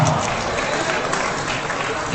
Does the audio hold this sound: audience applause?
yes